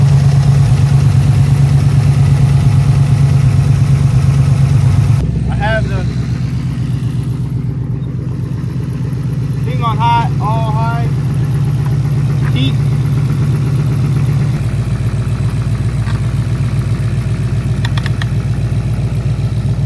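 A 2013 Mustang GT engine idling close up, a loud steady low drone with a faint rattle riding on it and brief voices under the engine.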